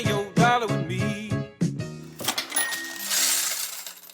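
Coins clink and jingle as they drop, a burst of metallic rattles followed by a cash-register-like ring and shimmering hiss.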